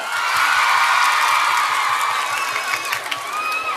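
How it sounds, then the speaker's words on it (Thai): A crowd at a concert at Central Festival Hadyai, a shopping mall, claps and cheers loudly. Dense, continuous applause is mixed with whoops and high shouts, and it thins slightly toward the end. "เอาปรบมือดังๆหน่อยแล้ว"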